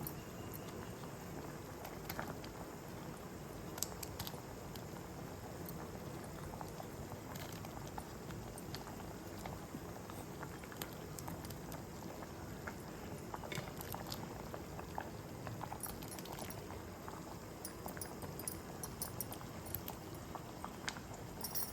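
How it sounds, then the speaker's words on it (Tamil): Kolukattai payasam, a creamy sweet with cooked rice dumplings, simmers steadily in a pot, giving a continuous close bubbling and popping that holds even throughout with no talk. "இது நல்லா ஒரு கொதி கொதிச்சு ஒன்றா சேர்ந்து வரட்டும்."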